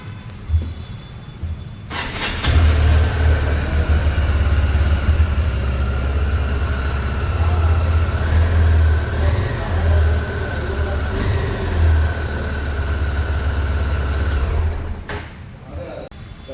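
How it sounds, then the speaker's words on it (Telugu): A Honda CB200X motorcycle idles with a steady, low exhaust rumble that runs close by for about twelve seconds, then cuts off, with no talking. "ఒకసారి ఈ వెహికల్ ఎగ్జాస్ట్ సౌండ్ విందాం"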